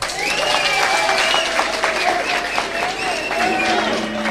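A crowd at a meeting of religious leaders in Nairobi applauds, a dense steady patter of clapping lasting several seconds, with voices and cheers mixed in.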